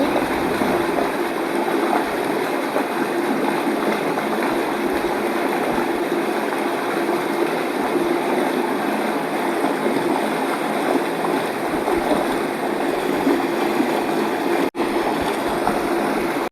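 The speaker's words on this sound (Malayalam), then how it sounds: "ഇത് ഡാമിൽ നിന്ന് വരുന്ന വെള്ളമാണ്" Steady rushing water released from a dam flows continuously with a broad, even roar, close and fairly loud, with no voices, in Chimney wildlife sanctuary, Thrissur.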